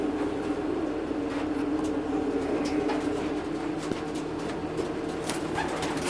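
Racing pigeons in a loft give low, steady cooing and rustling under a constant hum, with occasional soft flutters and knocks.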